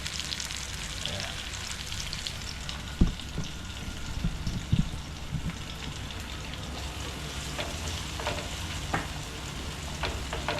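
Bitter gourd (ampalaya) sizzles and fries in a pan, stirred now and then with a few sharp utensil knocks, a steady close crackle with no voices.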